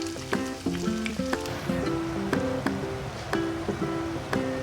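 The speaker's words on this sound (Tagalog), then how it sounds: "So we fry it until golden brown." Chicken pieces frying in hot oil until golden brown for homemade orange chicken, a steady close sizzle and bubbling running throughout, marked by a few sharp clinks or taps, with no talking.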